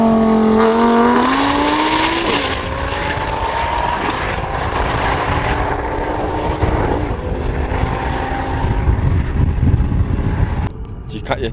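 The world's fastest electric hypercar accelerates hard from 50 mph in third gear, a rising motor whine climbing in pitch over a loud rushing roar, then dropping away abruptly near the end.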